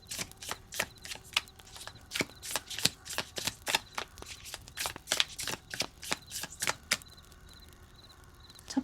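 Tarot cards are shuffled by hand in a quiet room before a draw, with a long run of rapid, crisp riffling flicks close to the ear that stop near the end.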